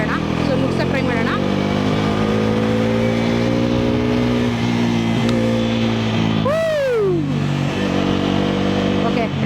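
A Bajaj NS 400Z motorcycle engine hums steadily while riding through city traffic, its tone rising and falling with throttle, loud and close throughout, with a brief higher whine sweeping down midway.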